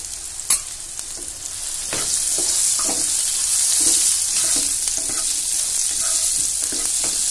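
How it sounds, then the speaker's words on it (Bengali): Brinjal pieces dusted with turmeric fry in hot oil in a pan, a loud continuous sizzle broken by a sharp clink at the start and occasional scraping stirs. "বেগুনগুলো আমি হালকা লাল করে ভেজে নেব"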